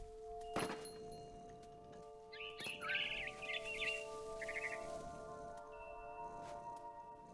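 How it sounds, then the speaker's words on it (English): Barn swallow chirping near its nest in the video game What Remains of Edith Finch: a brief cluster of twittering calls over soft ambient game music, with a couple of dull thumps around it. "Then I heard chirping outside my window. It was a barn swallow going back to her nest."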